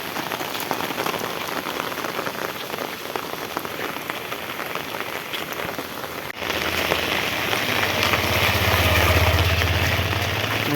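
Heavy rain pours steadily on surfaces in a village, dense and loud throughout, with a low engine rumble joining in the latter half.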